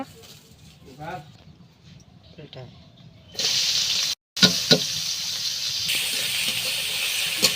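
Onions, green chilies and potato hitting hot oil in a village kitchen pan, a sudden loud steady sizzle with a brief break, after a quieter stretch of clatter and faint voices.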